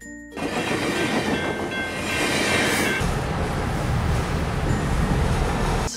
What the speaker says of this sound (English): After that, I took the train to San Diego.